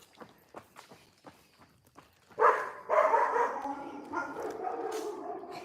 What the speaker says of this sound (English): The doggies.